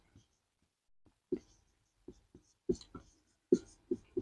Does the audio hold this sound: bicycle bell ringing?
no